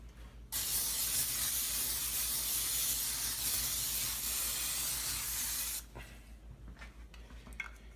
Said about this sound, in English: we're going to use our trusty cooking spray.